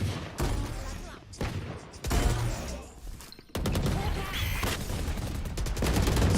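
Rapid bursts of gunfire from a tactical shooter match in Valorant, rattling volleys broken by brief pauses, with a commentator talking over the action.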